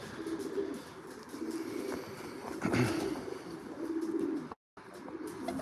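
Racing pigeons coo in a loft, low throaty rolling calls repeating steadily at close range, with a louder coo midway and a brief dropout near the end, over faint background ambience.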